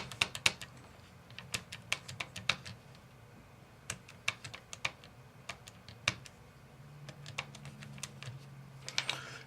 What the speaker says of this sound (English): I just typed it into my calculator